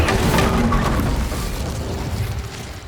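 An Incendio fire spell bursting in Hogwarts Legacy: a loud, dense whooshing boom with a roaring rumble that holds steady for a few seconds, close and alone without talk.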